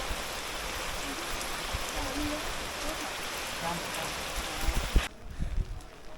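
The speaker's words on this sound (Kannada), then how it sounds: "ಇನ್ನೇನು ಮ್ಯಾಲೆ ರೀಚ್ ಆಗ್ಬೇಕನ್ನಷ್ಟಿಗೆ ಮಳೆ ಜಬರ್ದಸ್ತ್ ಜೋರು ಹೊಡಿಲಕ್ಕೆ ಸ್ಟಾರ್ಟ್ ಆಯ್ತು." Heavy rain pours steadily at Anjanadri Hills, a dense, loud, continuous hiss that suddenly drops away near the end, leaving a few louder nearby knocks.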